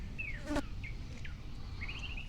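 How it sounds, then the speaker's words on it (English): A bird gives a few quick, thin chirping calls, fairly close, over a soft outdoor background hum. "And the bird is going crazy."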